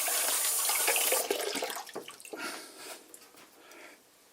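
A lemon is rinsed under a running kitchen tap: a steady rush of water for about a second, then splashing, dripping and handling sounds as the flow stops and fades.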